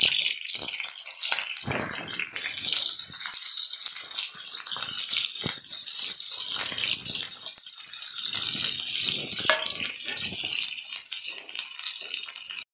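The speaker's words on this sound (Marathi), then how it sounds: "त्यानंतर आपण त्यामध्ये हा कट केलेला कांदा आहे तो पण घालूया।" Chopped onion and green chillies frying in hot oil in a pan for a spicy mutton fry, a steady loud sizzle and crackle running continuously throughout without pause.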